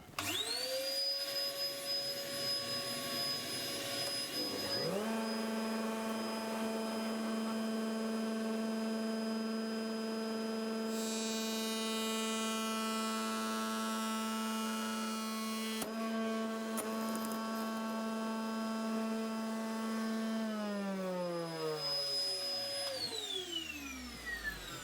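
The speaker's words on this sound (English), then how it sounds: "The vacuum's in place, the cutter is switched on." A workshop cutter runs with vacuum extraction: a loud motor whines up, holds a steady tonal drone for about twenty seconds with a brief cutting rasp in the middle, then spins down.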